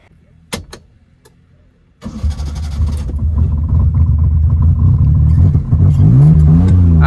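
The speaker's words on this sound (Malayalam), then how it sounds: "ഇനി നമുക്ക് ഈ വണ്ടിൻ്റെ എക്സോസ്റ്റിനോട്ട് ഒന്ന് കേട്ട് നോക്കാം." A modified Maruti 800 with a carburettor engine cranks briefly, catches after a short pause, and settles into a loud, steady idle with a rough exhaust note that swells slightly near the end.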